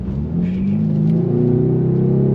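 2024 Ford Mustang EcoBoost engine pulling hard on throttle through a bend, a steady loud drone rising smoothly in pitch as it accelerates, close and continuous with no talk.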